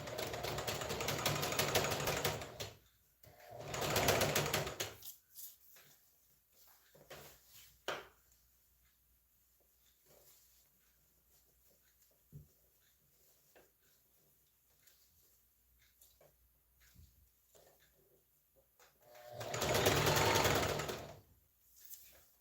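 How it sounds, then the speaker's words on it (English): A sewing machine that is not sewing well stitches a butterfly top in loud, close bursts of rapid mechanical whirring, separated by a long quiet stretch with faint clicks and handling noises. "There's something wrong with this machine. It's not sewing well."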